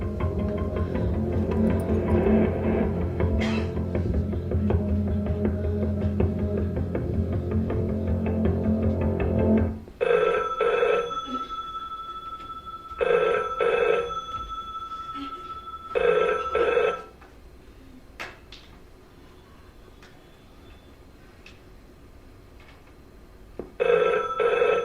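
A telephone rings after a call is placed, with repeated ring bursts in a regular on-off pattern following a louder stretch of background sound, then quieter line noise.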